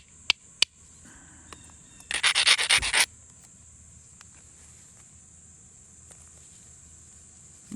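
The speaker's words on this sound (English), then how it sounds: "Just go ahead and bevel this edge." A stone edge is beveled by abrasion during flintknapping, with two sharp clicks followed by about a second of quick rhythmic scraping strokes, then quiet with faint ticks in a calm outdoor setting.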